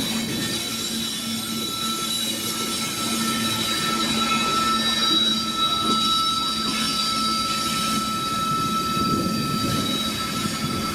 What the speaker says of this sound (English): There's the rest of the train down there, heading into the terminal.